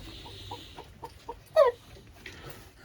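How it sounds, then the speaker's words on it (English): Chickens and a cockerel in a shed give a run of soft, evenly spaced clucks, then one louder squawking call close by, followed by quieter shuffling. "So that's the main cockerel."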